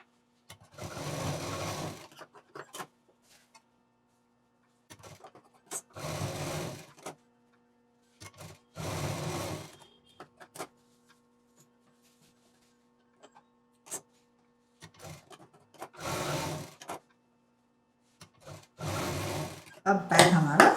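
A sewing machine stitches the seams of a homemade folding tote bag in several bursts of close, whirring running, each a second or two long, with quiet pauses between them.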